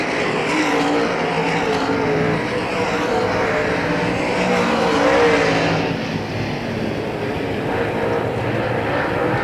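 Late model race cars roar around Hagerstown Speedway, a dense and continuous engine din from a pack of cars that swells and fades slightly as they pass, heard at moderate distance.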